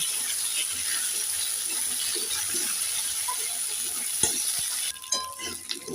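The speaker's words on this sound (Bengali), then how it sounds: "এবার দিয়ে দেব গাটি কচু আবারও নেড়ে ছেড়ে আবারও এক মিনিট ভেজে নেব" Potatoes and gathi kochu (taro) fry in a pan with a steady, moderate sizzle and occasional stirring clatter, ending with a few sharper scrapes and knocks; no one speaks.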